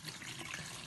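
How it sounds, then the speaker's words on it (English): Lukewarm water gushes into a plastic bucket for dough, a brief, soft, continuous pouring rush. "Here goes the lukewarm water"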